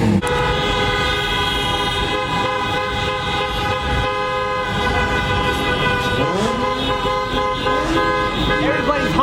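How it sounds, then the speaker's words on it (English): Many car horns blaring together at a large outdoor car meet, sustained steady honking tones layered over crowd noise and engines for the whole stretch, with voices talking underneath. "Everybody's honking right now"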